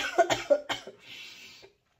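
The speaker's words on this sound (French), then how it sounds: "Désolée, je vais tousser." A woman coughs several times in quick succession, close and fairly soft, trailing off into a breathy exhale.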